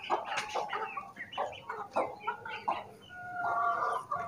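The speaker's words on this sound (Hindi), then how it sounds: "तो ये हमारी मुर्गियाँ और उसके चूजे" Several hens with chicks cluck and cackle close by in quick, uneven bursts, with a higher drawn-out call near the end.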